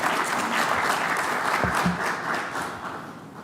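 An audience at a Washington, D.C. security forum claps steadily, a dense wash of applause that fades slightly toward the end.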